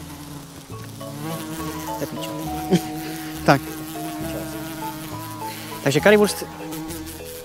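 A wasp buzzes around a cook making homemade currywurst with curry sauce outdoors, its faint insect drone running under steady Czech talk with a few louder close passes.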